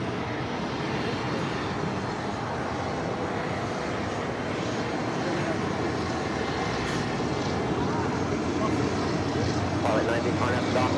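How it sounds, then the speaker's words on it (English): A Singapore Airlines Boeing 777-300ER jet rolls for departure on runway 24 left at Los Angeles airport, a broad continuous roar of jet engines heard from a distance, with a radio voice talking over it. "Singapore, the 777-300ER heading down 24 left"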